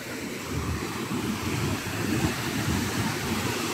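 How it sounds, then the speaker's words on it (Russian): Ocean surf rolls onto Kata Beach in Phuket at sunset, a broad continuous wash with gentle swells and some wind buffeting the microphone, and no talking over it. "О, волны тоже, смотри,"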